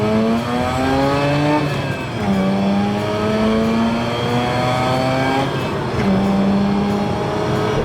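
A car engine revs loudly and repeatedly, pitch rising in several sweeping runs with short dips between gear changes, close and dominant throughout.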